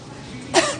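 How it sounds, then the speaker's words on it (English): A woman coughs once without covering her mouth. The single short cough comes near the end of a quiet stretch. "The woman continued to cough without covering her mouth in a second video."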